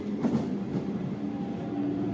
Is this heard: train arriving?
yes